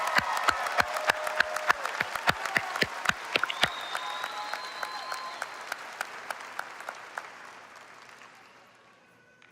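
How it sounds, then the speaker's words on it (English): Applause from a graduation ceremony audience for the graduates, with a few sharp individual claps over a broad crowd clapping that fades gradually toward silence. "applause."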